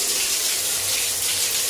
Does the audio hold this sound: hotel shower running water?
yes